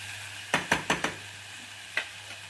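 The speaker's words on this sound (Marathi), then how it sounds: "एक 2 मिनिटं या भाज्या परतवून घ्यायच्या" Vegetables being sautéed in a pan for dalia lapsi upma, with a quick run of four scraping stirs followed by one more, over a faint steady sizzle, close and fairly quiet.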